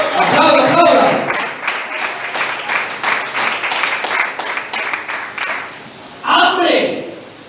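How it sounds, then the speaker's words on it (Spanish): Church congregation applauding during a sermon, steady crowd clapping running throughout while a preacher talks over it, his voice rising again near the end. "aplauda."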